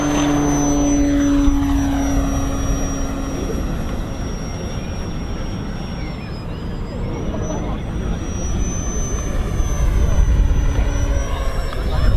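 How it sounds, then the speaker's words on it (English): A model aircraft engine holds a steady buzzing drone at half throttle at a model flying event, loud and continuous throughout, with slight pitch wavering as the aircraft moves, and faint voices underneath. "keep it on half throttle, Tim."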